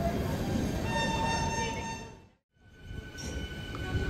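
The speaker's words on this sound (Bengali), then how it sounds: "13147 উত্তরবঙ্গ এক্সপ্রেস এইমাত্র এসে পৌঁছেছে বর্ধমান স্টেশনের 1 নম্বর প্ল্যাটফর্মে" The 13147 Uttarbanga Express pulls into platform 1 at Bardhaman station with a loud, steady rumble of wheels and carriages. The roar dips briefly to near silence midway, then swells back up close by.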